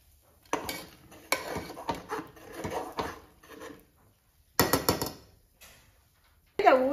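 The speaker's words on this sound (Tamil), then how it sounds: "இது லைட்டா அப்படியே ஒரு கிண்ட கிண்டி விட்டு" Kerala kalathappam batter being stirred in a pressure cooker, with a series of close scraping and clanking strokes of a utensil against the metal pot in short bursts, ending with a louder pour or sizzle.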